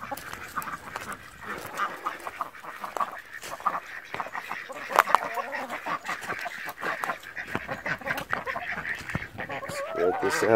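Busy quacking and honking from a crowd of ducks and geese, close and continuous, with a person talking now and then over the birds.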